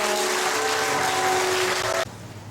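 Broad, steady applause from a congregation at a church discipleship college graduation ceremony rolls on for about two seconds, then cuts off abruptly, leaving quieter music behind.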